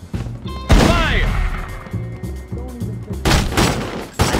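Gunfire in The Godfather II video game, a rapid burst of shots ringing out loud and close, followed by more scattered bangs, with brief voices in between.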